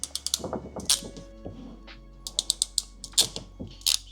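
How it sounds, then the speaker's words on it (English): Crimping tool clamping wire connectors during a vehicle lighting kit install, black to black and red to red, giving a run of sharp mechanical clicks and ratcheting snaps, close and fairly quiet with no talk. "Grab your crimping tools and you're going to put the black to black"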